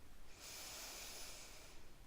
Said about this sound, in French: vous allez pouvoir inspirer par le nez,